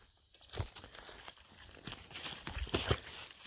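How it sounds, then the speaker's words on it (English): Footsteps crunch through dry undergrowth outdoors, a series of close, crisp crackling steps that grow louder and more frequent toward the end, with no talking. "I even like the sound, just crunching through this stuff."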